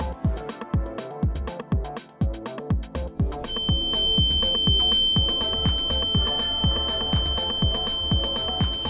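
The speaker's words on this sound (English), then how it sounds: "on opening the window, buzzer start beeping" A DIY Zigbee-based wireless home security system's buzzer goes off when a window is opened, a loud, steady electronic beeping tone that starts partway through and holds over rhythmic background thumps.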